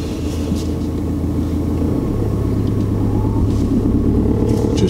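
A learner driver's car rolls slowly while parking, giving a steady low engine rumble and road hum up close with no break in the noise.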